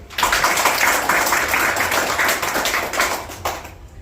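Steady, loud applause from an audience at a year-end gathering and officer inauguration ceremony, dense clapping sustained for about four seconds before tapering off, with no voices over it.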